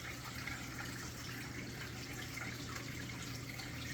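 Creek water flowing steadily on an outdoor property, an even broadband rush at moderate level with a low hum underneath and no voices.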